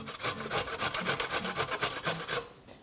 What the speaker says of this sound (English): I like to grate it, I just leave the skin on it and we just grate it up.